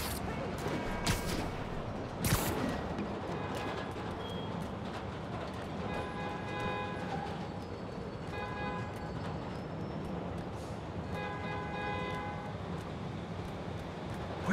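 A train moves through a city in the video game Marvel's Spider-Man Remastered, heard as a steady mid-distance rumble with faint repeating tonal bursts. The train noise runs under game effects and occasional dialogue.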